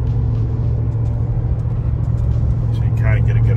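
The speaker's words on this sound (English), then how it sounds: "just kind of let you hear the truck" A Ford Tremor pickup fitted with an MBRP exhaust cruising down the road, a steady deep engine drone and low rumble heard from inside the cab, with someone talking over it.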